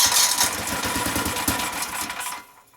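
A small go-kart engine with a PZ30 carburetor fires up and runs with a rapid, buzzing chug at close range, then fades and drops off near the end, with no throttle applied.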